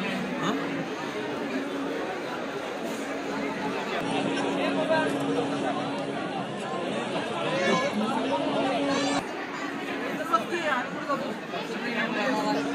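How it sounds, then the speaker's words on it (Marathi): Dense crowd murmur fills a nighttime gathering at the ancient temple in Khidrapur, where many voices blend into a steady, continuous babble with no single speaker standing out. "गर्दी केवढी झाली आहे ना"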